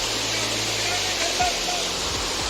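A waterfall somewhere along a rocky trail pours out a steady, unbroken rush of water that fills the whole clip, with faint low thumps and handling noise underneath.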